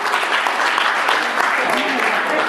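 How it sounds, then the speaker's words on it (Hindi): Sustained applause from an event audience in a community hall welcoming an honoree, a steady, dense wash of clapping held at an even level throughout. "जबरदस्त तालियों के साथ स्वागत कीजिए राजेश चोपड़ा जी का"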